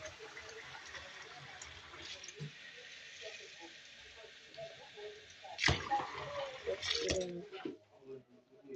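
A tap runs water into a container, heard as a steady, close rush with faint splashing and a few louder knocks and clatters toward the end.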